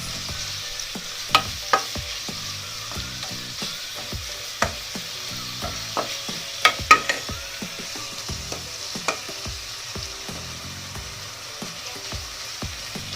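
Food roasts in a pan for a Tokat-style tirit with fenugreek paste, a steady sizzle and frying hiss under repeated scraping and clinking of a utensil stirring, no voices.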